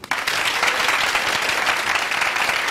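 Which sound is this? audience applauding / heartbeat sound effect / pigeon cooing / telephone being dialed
audience applauding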